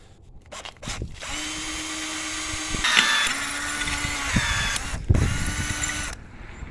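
Close, loud whirring of a power drill drilling holes for a tachometer install in three runs separated by brief pauses, with sharp clicks and knocks between bursts.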